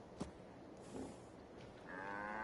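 A cow in the video game Fallout 76 lets out a long, drawn-out moo near the end, rising over low ambient game noise after a brief earlier thump.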